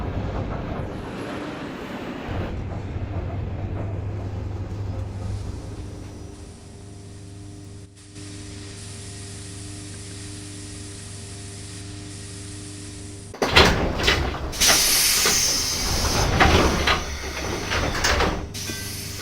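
Bayport El Network train at a station in snow: a rumbling run settles to a steady idle hum with a brief thud, then a burst of loud hissing and clattering as doors work, with no talk.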